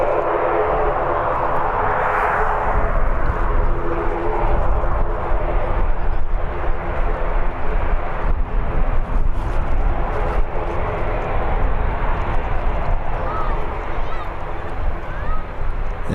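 An airplane on the runway at Birmingham airport produces a continuous broad roar of jet engines, loud and steady throughout, with a faint rising whine near the end.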